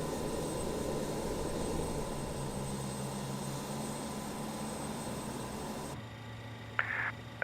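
A steady, loud jet engine roar from an RJ Professional regional jet in a flight simulator fills the scene with a broadband whine, then drops in level near the end as a short tonal blip sounds.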